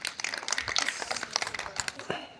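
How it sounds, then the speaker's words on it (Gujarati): Young schoolchildren at a primary-class running race clap for the winner in a quick, uneven patter of claps, with an adult voice talking over them. "તાળી પાડો નૈતિકની."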